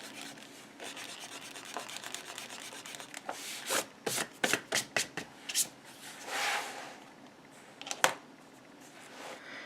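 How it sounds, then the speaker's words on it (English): An eraser scrubs pencil marks off paper in a run of short, brisk rubbing strokes, some quick and closely spaced, with a sharper scrape near the end, close up and fairly quiet. "while I'm erasing, can just erase any of the pencil marks that are around these letters"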